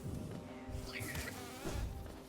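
Bees buzzing in the Hollow Knight video game, a steady insect drone with swelling pulses over faint game music, with a brief spoken word.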